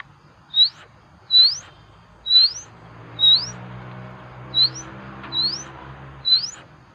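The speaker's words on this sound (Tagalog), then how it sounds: "Kuha ko yung boses sa mga ibon. Saka ito naman guys, yung tamsi, yung maliit, yung mataas yung sungo." A small sunbird sings seven thin, high, upward-sweeping notes, spaced about a second apart, over a low steady hum.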